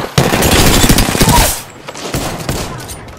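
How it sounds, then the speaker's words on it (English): Rapid automatic gunfire in the Apex Legends video game rattles loudly and close for about a second and a half, then drops to scattered, quieter shots and echoing impacts. "Another squad is attacking us! Taking fire."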